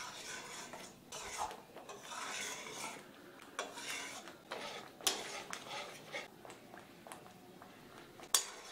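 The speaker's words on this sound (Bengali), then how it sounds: "কাজু বাদাম বাটাটা দিয়ে আবার কষাতে থাকছি।" Cashew paste masala being stirred and sautéed in a pan for butter chicken, with a soft, continuous scraping and rasping of the spoon against the pan and occasional sharper taps, quiet and close, with no voices.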